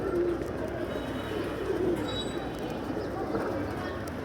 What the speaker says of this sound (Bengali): ওই আর কবুতর আছে